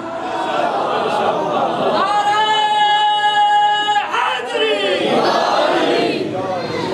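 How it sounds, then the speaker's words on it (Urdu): A large seated crowd at a Muharram majlis chants a religious slogan together, a loud sustained swell of massed voices that rises, holds for a couple of seconds, then falls back into murmuring. "اس قدر مجمع بیٹھا ہے, نعرے کی آواز بہت کم تھی"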